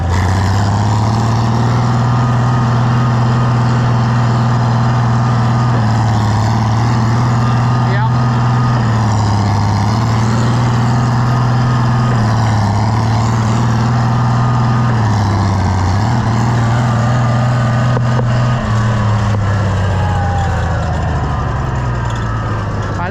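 An old tractor engine idles steadily with a low, even drone and a slight tick in its running, close and loud throughout, its tone dipping briefly near the end.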